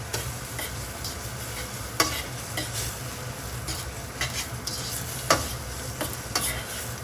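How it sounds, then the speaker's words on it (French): Spaghetti in carbonara sauce with guanciale is beaten and stirred in a pan, giving soft continuous sizzling broken by several sharp spoon-against-pan knocks. "Donc on décharge l'amidon dans la sauce en battant les pâtes."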